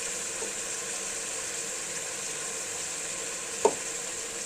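Mutton and onions fry in oil over high heat for karahi, giving a steady, fairly quiet sizzle with one brief clink partway through.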